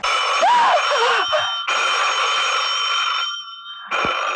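An old telephone rings in long, steady electronic bursts, loud and close, with a short gap before it starts again.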